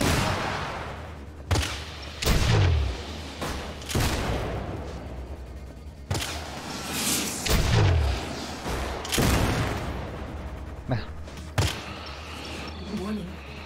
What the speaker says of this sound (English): Incoming missiles. Reach to take them out.